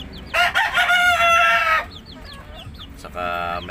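A Black Knight muff rooster crows loudly and close by in one long call, followed by softer clucks and a second shorter crow.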